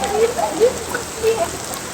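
Steady rain patters down in a village, a continuous wash of drops with a few slightly louder splashes, no voices.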